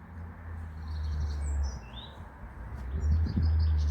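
Goldfinches chirp and twitter faintly at a distance in a UK garden in spring, over a low steady rumble of background noise.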